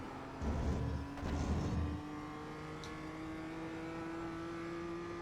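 BMW M2 race car in iRacing at Okayama, engine pulling back up through third gear after a downshift, with two loud revving bursts in the first seconds before dropping to a steady, quieter engine drone.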